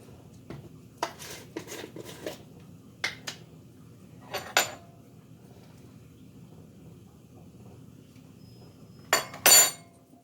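A spoon clinks against a glass while scooping daily greens powder in a kitchen, with several small, scattered taps and a louder cluster of clinks near the end over quiet room hum.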